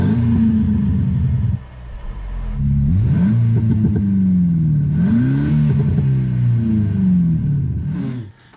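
An electric Porsche conversion's speaker plays a synthetic engine note imitating a five- or seven-speed dual-clutch gearbox, a loud droning rumble rising and dropping through repeated shift-like sweeps for several seconds.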